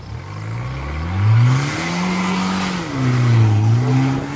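A Volvo 760 car engine revs hard close by, rising in pitch, easing off, then climbing again in two loud surges, with no speech.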